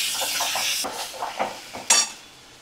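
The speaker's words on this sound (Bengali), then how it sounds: "এবার আমি কুচানো টমেটো দিয়ে দিলাম।" Chopped tomatoes go into a hot pan while ghugni cooks, giving a soft sizzle and hiss with a few clinks and scrapes of a utensil against the pan, ending in a sharper burst of frying.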